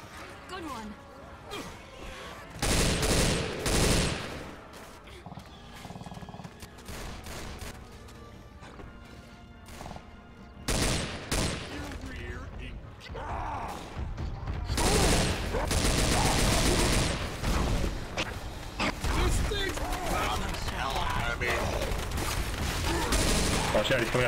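Rapid crackling bursts of fireworks in the video game Left 4 Dead 2 go off in several loud volleys, mixed with game gunfire and players talking over the noise.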